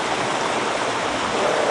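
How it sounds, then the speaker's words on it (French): Steady broadband rush of the Tchisheke river, a stream fed by three upstream rivers in a marsh irrigation area, flowing continuously and close without pause or voices. "c'est la rivière Tchisheke"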